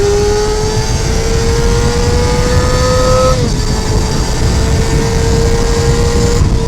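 A Honda CBR250RR MC22 motorcycle engine revs hard at high rpm while riding, a loud, continuous high-pitched inline-four scream that climbs steadily, drops briefly at a gear change, then pulls again.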